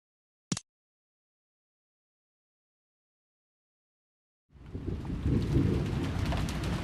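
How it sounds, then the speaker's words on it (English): Thunder, falling rain and wind in the visual novel game Umineko: a sharp crack, a long silence, then a dense rush of rain and rumbling storm noise. "Then the sound of thunder, and the sound of the falling rain and wind."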